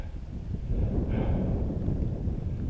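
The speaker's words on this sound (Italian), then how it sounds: "C'è un po' d'aria, un po' di vento, nuvole basse" Wind sweeps across a mountain ridge on the approach to Monte Alfeo in the Ligurian Apennines, heard as a steady low rumble of gusts buffeting the microphone, with a brief breathy puff partway through.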